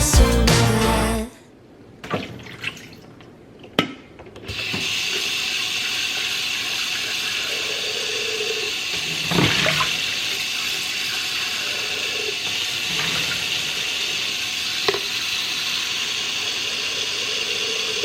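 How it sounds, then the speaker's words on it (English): Tap water running steadily into a coffee maker's reservoir, a continuous close hiss and splash lasting most of the stretch after a few brief clicks and handling knocks at the start. "I go ahead and I fill up the coffee maker with water"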